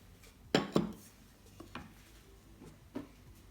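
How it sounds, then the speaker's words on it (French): Lamb pieces dropped into a tajine pot, with a couple of sharp clattering impacts close by, then softer scattered knocks of metal and crockery. "On va maintenant ajouter notre viande."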